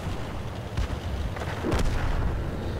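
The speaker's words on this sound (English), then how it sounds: "Oh my God, I'm getting shot at." Incoming gunfire and artillery shells striking a tank in the World of Tanks video game, a few sharp impacts and booms over a steady rumbling battle bed, fairly loud throughout.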